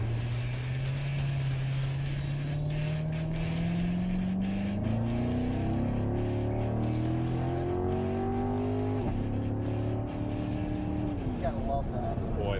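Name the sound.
2014 Chevrolet C7 Corvette engine accelerating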